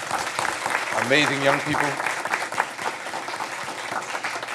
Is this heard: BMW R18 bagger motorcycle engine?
no